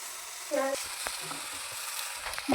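Doddapatre leaves roasting in a pan, a soft, low sizzle with a few scraping stirs and light clinks, fairly quiet and close.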